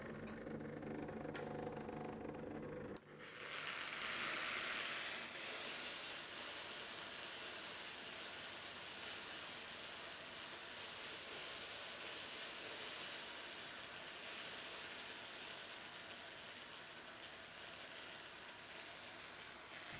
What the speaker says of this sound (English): Let me show you what happens when you hit the steam button.